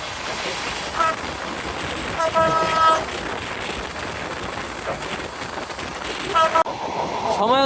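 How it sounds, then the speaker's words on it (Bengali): A passenger train on its inaugural Dhaka–Benapole run rolls through Nagarkanda railway station, with a continuous rumble of wheels on track and short tonal horn toots near the beginning, middle and end. "আমাদের ট্রেনটি এখন Nagarkanda railway station through pass করে যাচ্ছে"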